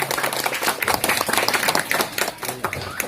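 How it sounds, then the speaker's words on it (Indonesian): An audience at a gathering with a city mayor claps together, loose individual hand claps forming lively uneven applause that stays close and fairly loud, with a little talking underneath. "Mohon tepuk tangan sekali lagi untuk kita semua."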